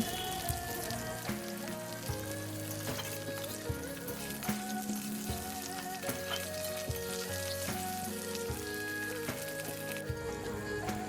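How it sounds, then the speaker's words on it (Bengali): Pointed gourd fries in a pan with a continuous dense sizzle and crackle, punctuated by soft spatula knocks and stirring; steady and close. "পটলগুলো সুন্দর করে ভেজে নেব।"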